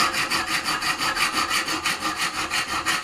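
A hacksaw cuts through copper pipe by hand in steady back-and-forth strokes, each pass a rasping, metallic scrape, close and loud throughout with no voices.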